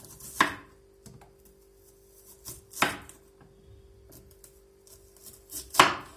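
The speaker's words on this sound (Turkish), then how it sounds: "soğanımı da yine aynı şekilde halka halka doğrayacağım" A knife strikes a cutting board in three sharp, spaced chops while slicing onion into rings, with faint scraping and a steady low hum in between; no talking.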